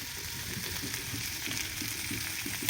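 Food frying in a pan gives a steady, close sizzle and crackle, with faint scraping from stirring mixed in throughout.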